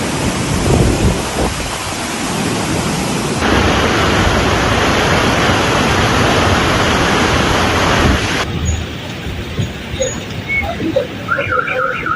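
Heavy downpour roars during flooding in La Paz, Baja California, with deep thunder rumbles rolling underneath, loud and continuous before the rain thins toward the end.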